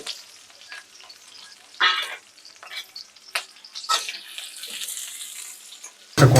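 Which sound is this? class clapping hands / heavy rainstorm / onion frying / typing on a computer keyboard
onion frying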